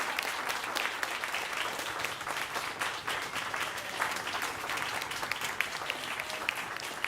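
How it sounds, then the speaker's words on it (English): After a jazz event at Jazz St. Louis, an audience applauds the musicians with fairly quiet, even, continuous clapping lasting about seven seconds, without speech over it. "Give them another round of applause."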